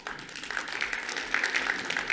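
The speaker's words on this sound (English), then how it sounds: "Round of applause to our designers" Steady applause from a conference audience at a blockchain developer event, dense and continuous clapping at moderate level with no clear talk over it.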